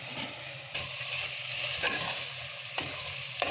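Tomatoes frying on high flame in a pan for Ambur biryani, a constant sizzle with a spoon stirring and scraping, plus a few sharp clinks against the pan.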